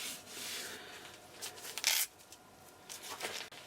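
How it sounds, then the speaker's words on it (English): Sandpaper rubs against a wooden tool handle on a lathe in several brisk, scratchy strokes, one sharper burst in the middle, close up and fairly quiet. "Just a little quick wipe of sandpaper."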